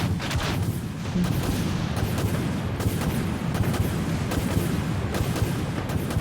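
Autoguns and torpedoes fire in a space combat game as a dense, continuous rumble of rapid booming shots that holds loud and steady throughout with no talk.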